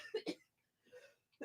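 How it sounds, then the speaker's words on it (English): Two quick coughs close to the mic, a pause, then a softer throaty cough and the start of another, faint and muffled. "I just had a coughing fit and didn't get to the mute button."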